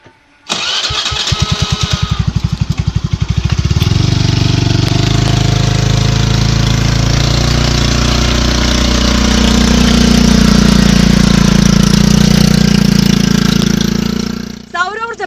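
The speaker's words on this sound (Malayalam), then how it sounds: "സൗരോർജ്ജത്തിലും പെട്രോളിലും ഓടുന്ന വാഹനമാണ് ഈ കൊച്ചുമിടുക്കൻ തയ്യാറാക്കിയത്" A petrol engine on a student-built three-seat solar and petrol vehicle cranks with rapid chugging, catches, and settles into a loud, steady running drone, with a sharp noise near the end.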